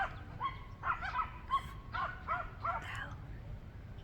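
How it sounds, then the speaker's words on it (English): Dogs off leash on an alpine trail bark and yip in a string of short, sharp bursts, fairly close and moderately loud, over faint outdoor background noise. "So here you have people with dogs off leash or they're like barking up a storm."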